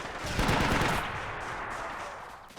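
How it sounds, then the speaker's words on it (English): Dense, rumbling video game gunfire and distant shells landing, Russian airborne troops in battle, blend into a loud wash of battle noise, peaking early then slowly fading. "There's even rounds landing down here."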